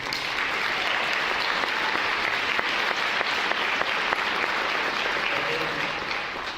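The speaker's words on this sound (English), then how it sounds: "just give a round of applause for these people, because this is not easy." A crowd at a nursing-program gathering held alongside an esports match applauds steadily for several seconds, dense sustained clapping filling the room with a few sharper claps standing out.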